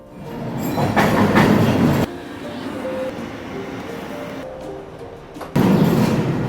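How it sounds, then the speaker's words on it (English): The Scarborough RT rapid transit train in Toronto rumbles loudly along the track with rattling and creaking, easing briefly before the roar swells again, heard from inside the car. "It's called the Scarborough RT that runs from Kennedy to McCowan."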